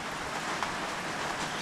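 Rain falls steadily outdoors as a soft, continuous hiss with faint scattered drops, and no voices are heard.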